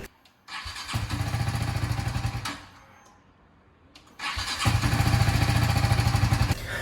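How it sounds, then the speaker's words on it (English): A BMW G310GS motorcycle cranks and catches into a loud, steady single-cylinder idle, cuts out into near silence, then restarts and settles into the same close, even running. "when I start the bike, every morning this thing happens"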